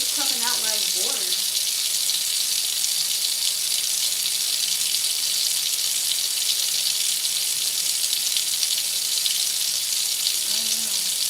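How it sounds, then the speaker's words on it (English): Water running steadily from a tap, a constant broadband hiss filling the whole stretch at even loudness, with brief voice-like sounds near the start and end. "I had the water all running."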